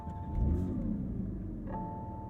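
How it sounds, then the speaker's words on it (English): Flat-six boxer engine of a 2022 Porsche 911 GT3 firing up: the starter catches, a loud deep rumbling surge follows, then settles into a steady close idle with no talking. "It's a deep rumble from that Boxer 6 on startup"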